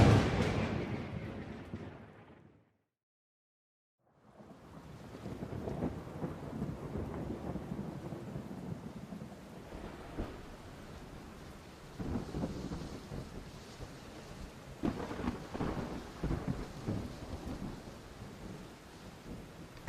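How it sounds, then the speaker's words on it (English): Thunder rumbles and echoes from a distant storm with steady rain falling throughout, a short near-silent gap early on, then repeated low rolling booms over the constant patter. "As the peak of the storm echoes in the distance"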